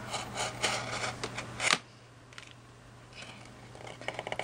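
A sharp craft blade cutting matchbook shadow box material: a close burst of scratchy, rasping strokes, then a sharp snap, a quiet pause, and a few fainter scraping passes near the end.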